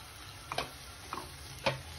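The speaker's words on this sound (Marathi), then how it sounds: "ते छान परतून घेऊया आणि थोडंसं मीठ घालूया त्याला।" Peas, beans, carrot and capsicum sautéing for veg paneer pulav, with a low steady sizzle and three sharp spoon scrapes against the pan, quiet and close.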